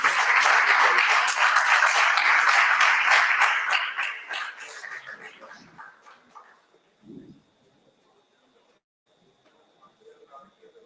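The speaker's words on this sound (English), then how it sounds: "Huge rounds of applause, please." Audience applause at a DevFest tech conference main stage, loud sustained clapping that fades out over several seconds, followed by a near-quiet room with faint scattered noises.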